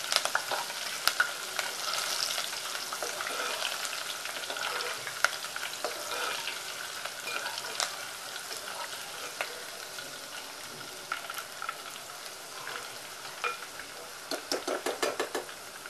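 Green chillies and curry leaves for sabudana chivda sizzle and crackle in hot oil in a pan with the gas switched off, a steady fry with occasional sharp pops and light scraping, ending in a burst of quick crackles.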